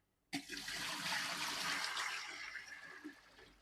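Water poured from a basin into a flowerpot starts abruptly and gushes steadily for about three seconds before tapering off, close and fairly loud against a quiet room.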